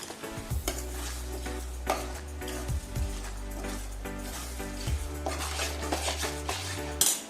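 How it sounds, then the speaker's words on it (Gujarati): A spoon stirs curd into onion gravy in a pan on the stove, with continuous scraping and clinking against the metal over a soft sizzle and occasional louder knocks. "એ નાખ્યા પછી હલાવવાનું. પ્રોપરલી દહીં અને ગ્રેવી બંને મિક્સ થઈ જવું જોઈએ."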